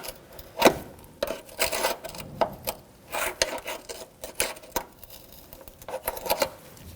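A flathead screwdriver pries a horseshoe clip off a front brake hose on a 2007-2017 Jeep Patriot, giving faint, irregular metallic clicks, scrapes and taps up close.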